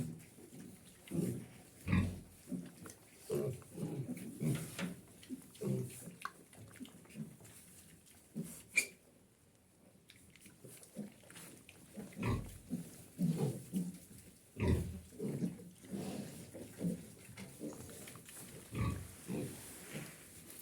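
Piglets grunt and snuffle softly in a quiet pigsty pen, with scattered low grunts, shuffling, and faint rustling throughout.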